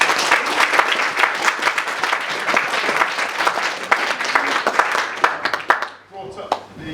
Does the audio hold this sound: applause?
yes